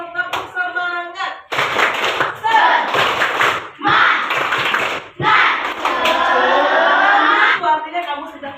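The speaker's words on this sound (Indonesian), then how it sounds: "tepuk semangat" Schoolchildren in a classroom coding lesson perform a rhythmic spirit clap, with bursts of group clapping alternating with sung or chanted phrases in several loud, close sections.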